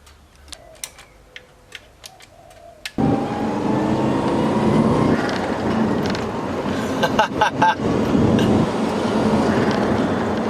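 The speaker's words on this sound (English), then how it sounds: "I don't know if you're going to be getting too much road noise from this amazing road that we have" A car with a cheap aftermarket turbo flutter mod drives along a road after a quiet opening of soft ticking, then a loud steady blend of engine and tyre road noise with some louder bursts, no talking.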